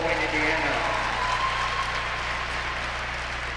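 Audience applause at a women's college volleyball game, a steady dense clapping wash from a crowd filling the whole clip at moderate level, with a faint voice over it.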